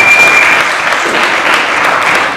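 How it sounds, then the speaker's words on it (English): Loud, close audience applause at a live poetry and storytelling show in the Bronx, dense and continuous clapping filling the whole stretch without speech. "I think that deserves a round of applause."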